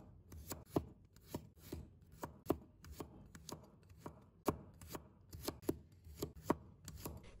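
A knife slices garlic cloves into pieces on a cutting board, producing a quick, uneven series of sharp, close taps and knocks with no talking.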